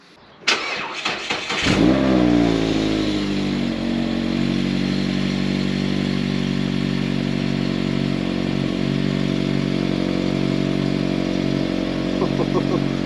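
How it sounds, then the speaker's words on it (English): A car engine cold-starts during a Scottish winter: a sharp cranking burst, then a steady rough idle that drones on loudly and evenly with no one speaking. "this is going to be the ultimate cold start test"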